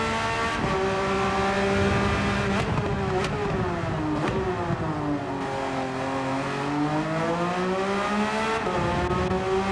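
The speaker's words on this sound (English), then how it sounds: "sliding a Porsche around these corners ever so nicely" A Porsche race car on worn medium tyres in a racing video game at Suzuka holds a loud, continuous engine note. The pitch sweeps up and down through the corners, with several sharp gear shifts.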